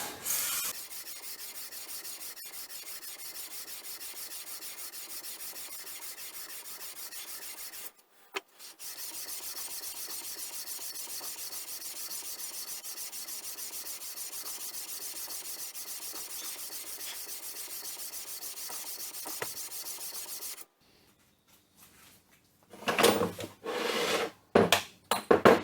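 The saddle of a mini lathe being lapped, a continuous dry rasping rub that runs for long stretches with a brief pause, then stops before a few louder knocks and scrapes near the end.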